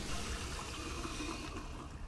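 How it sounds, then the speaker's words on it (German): A toilet flushes in the Skibidi Toilet video game, a continuous rushing, gurgling wash of water that stays steady and fairly quiet from start to finish. "Und sie spülen ihn runter."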